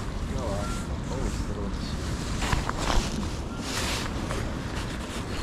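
Strong wind buffets the microphone on a boat during light spinning fishing at sea, a continuous loud rushing roar with water wash underneath.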